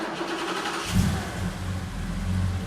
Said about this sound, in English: Because it's a fuel-injected engine, it starts up pretty much hot, cold, and everything in between.